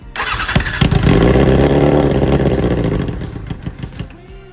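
A Suzuki Bandit 650 motorcycle engine under restoration cranks briefly, catches and fires up into a loud, steady idle with a slight rev, then settles with uneven pulses near the end, heard close up with no talking.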